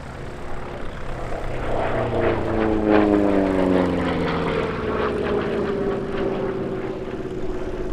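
A P-47D Thunderbolt piston-engined propeller fighter flies past at the RAF Cosford airshow, its deep engine drone swelling and then shifting pitch as it passes at moderate distance, steady and unbroken with no voices.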